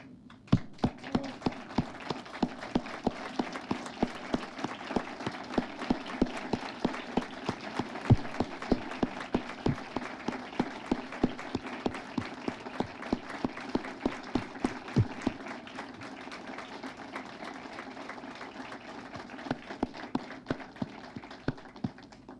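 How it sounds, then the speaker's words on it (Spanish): A standing audience at an event applauds book author María del Carmen Herter with rhythmic, unison clapping, sharp evenly spaced beats repeating steadily for over twenty seconds and briefly thinning near the end, with no talk. "Yo les voy a pedir que nos pongamos de pie y la aplaudamos."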